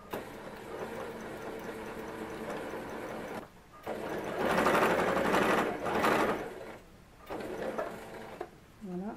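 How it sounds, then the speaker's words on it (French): A sewing machine stitching a seam on a dress, running in a steady mechanical whir with brief pauses and changes of speed, close and alone. "je vais venir faire une couture à quelques millimètres de ma première"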